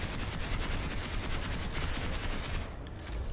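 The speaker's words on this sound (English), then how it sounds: "this will be firing off the hip from about, I would say, short range" Hip-fired weapon in the video game Planetside 2 at short range, a dense continuous stream of loud automatic gunshots that runs almost the whole clip, with a brief dip near the end.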